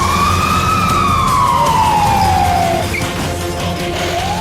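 A loud wailing ambulance siren sweeping slowly down in pitch, close and prominent over a rumbling traffic background, then starting to rise again.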